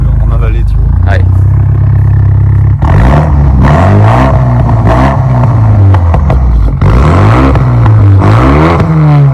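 A Renault Megane 3 RS Cup's 265 hp 2-litre engine turns over and starts, then revs up and down repeatedly, loud and close, with voices talking over the engine noise.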